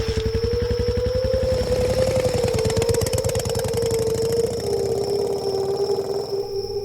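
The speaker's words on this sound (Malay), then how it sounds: "Naik cepat! Arah Puan Dinas lalu terus memecut motosikalnya pergi dari situ" A motorcycle engine revs hard and pulls away, a loud steady mid-pitched drone with a rapid knocking pulse throughout, easing slightly toward the end as it moves off.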